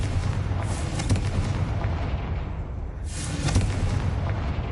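Confringo blasting spell explosions in Hogwarts Legacy, two heavy booming bursts about three seconds apart, each rumbling loudly over a dense background of game sound with no talking.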